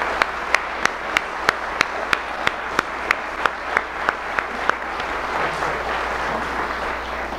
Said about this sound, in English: So could we give all the candidates a big round of applause?